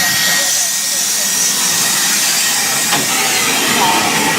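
A steam locomotive arrives at a Keighley & Worth Valley Railway spring steam gala with a loud broad hiss of steam, and voices can be heard talking over it.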